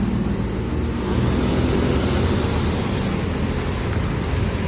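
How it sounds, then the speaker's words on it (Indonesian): Intercity regional bus from the Pangkalan Bun area idling and pulling away at a roadside stop, a steady low engine rumble with dense traffic noise around it and no talk. "Wah, bus ya Pak Iwan kayaknya mau berangkat ya."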